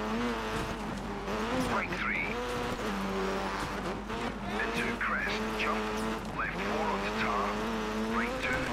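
A rally car in Dirt 3 runs onto a gravel stretch, its engine roaring loud and steady with pitch rising and falling through gear changes, plus occasional tire scrabble.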